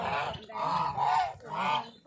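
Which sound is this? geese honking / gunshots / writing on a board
geese honking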